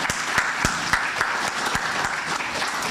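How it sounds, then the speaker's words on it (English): An audience at an investiture ceremony for a global president of the Chartered Institute of Arbitrators in Jamaica claps in a steady, moderately dense round of applause, with sharp individual claps standing out. "May we have a round of applause."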